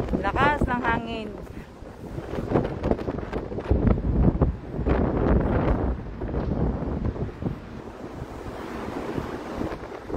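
Strong wind roars and buffets the microphone outdoors on a walk toward a church, a loud continuous rushing that swells and eases, with people talking over it throughout.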